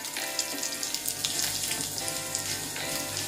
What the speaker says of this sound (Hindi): अब इन सबको अच्छे से फ्राई कर लेंगे।